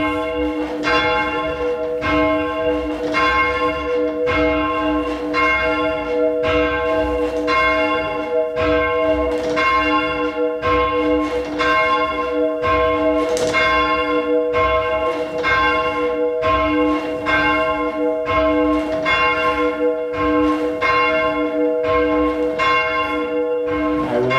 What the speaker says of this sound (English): Now checking the bell so that it's beginning to drop its swing.